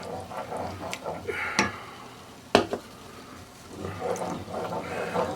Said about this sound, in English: We'll keep stirring it and we'll see what happens.